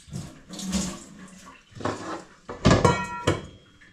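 Water splashing and sloshing as soft maize is rinsed in a metal pot, with several close bursts of swirling water and clunks of the pot.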